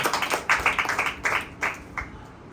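Hands clapping in a church worship service, a series of sharp, uneven bursts of several claps each that thin out and fade toward the end, with no voices.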